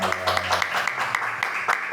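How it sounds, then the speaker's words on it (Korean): Applause from a church audience after a talk, a steady wash of many hands clapping with some voices mixed in early on. "우리 박수 주시면 감사하겠습니다"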